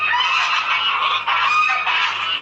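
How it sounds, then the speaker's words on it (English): A gaggle of geese honks loudly and continuously at close range, overlapping calls forming a dense, harsh chorus with only brief dips in volume. "Oh no, it's a gaggle of geese, and they're coming for her."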